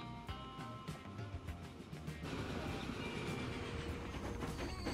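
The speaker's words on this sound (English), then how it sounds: "Let's take a quick look at this train." A train running in the railway simulation game Transport Fever 2, with a steady rolling rumble and rhythmic wheel clatter that grows fuller and louder partway through.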